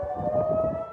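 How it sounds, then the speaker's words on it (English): A steady wailing rocket warning siren in Jerusalem holds continuously, loud and sustained over a low rumbling background. "Sirens in Jerusalem still warn of incoming rockets from Gaza"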